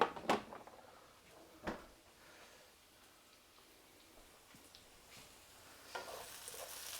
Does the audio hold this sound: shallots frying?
yes